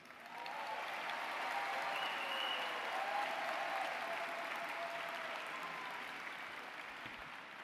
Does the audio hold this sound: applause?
yes